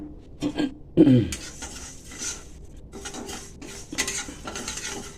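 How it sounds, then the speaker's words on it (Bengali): Mung dal being lightly dry-fried in a pan while a spoon stirs it, with metal clinks and scraping against the pan, a louder clatter near the start and a soft sizzle underneath, close by. "আমি আগে মুগের ডালটাকে একটু হালকা ভেজে নিচ্ছি"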